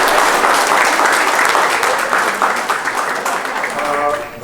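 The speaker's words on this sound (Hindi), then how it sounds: "ज़ोरदार ताली से आप सब इनका अभिनंदन करेंगे" Guests at the jaimala ceremony of an Indian wedding give the couple loud, sustained applause, a dense wash of clapping close by that fades slightly toward the end, with voices mixed in.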